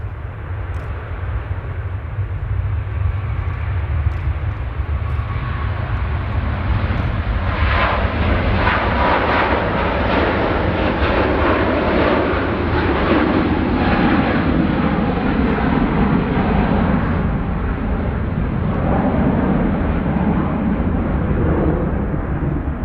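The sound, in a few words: airplane taxiing at Manchester Airport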